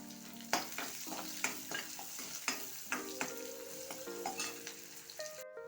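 Onion frying in oil for a samosa filling, a soft steady sizzle with spaced scraping stir strokes and light clinks of a spoon on the pan, faint and close, no talk.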